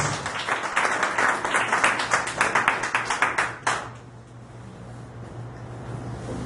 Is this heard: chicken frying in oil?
no